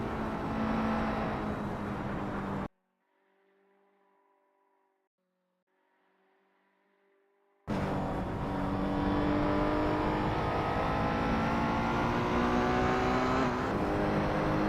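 A Corvette race car's engine drones loudly at Le Mans in Assetto Corsa, then drops to near silence with only faint tones for several seconds before the full engine roar abruptly returns and holds steady.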